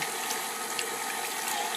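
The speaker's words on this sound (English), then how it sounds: "I am going to continue to pour some more water in" Water poured into a bowl while making homemade butter in a kitchen, a brief, continuous splashing trickle heard close and alone.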